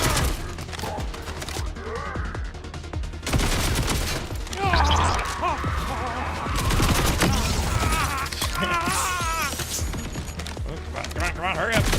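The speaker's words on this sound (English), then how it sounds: "Oh, turrets. I hate the turrets." Turrets firing in Borderlands 4, a fast clatter of gunfire and crashing impacts mixed with game effects, loud and continuous under someone talking.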